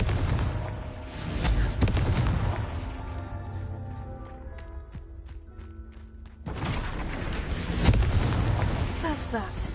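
Confringo fire spell blasts in the game Hogwarts Legacy, heavy booming explosions at the start and again near the end with ringing tonal game effects between, loud and close.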